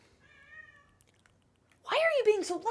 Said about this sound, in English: And my cat is meowing.